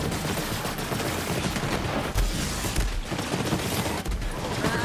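Rapid automatic gunfire from the Flipper gun in Borderlands 3, dealing corrosive and fire damage, rattles continuously and loudly with dense overlapping shots and impacts, game effects filling the background.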